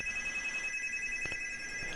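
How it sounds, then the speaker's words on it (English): A telephone rings steadily with an incoming call during a sports talk radio show, a continuous electronic tone with no talking over it. "We got a call coming in now."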